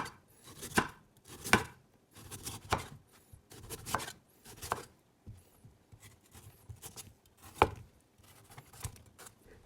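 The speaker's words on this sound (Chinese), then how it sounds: "我们先将冬瓜切成片，然后再将冬瓜切成大小相同的块" A knife chopping peeled, seeded winter melon into slices and then even chunks on a board, with clusters of crisp, close cuts separated by brief pauses and no talking.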